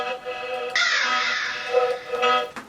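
A crow cawing sample plays within a Halloween trap beat, a loud, close, harsh drawn-out caw that swells and fades, with tonal melody and voices underneath.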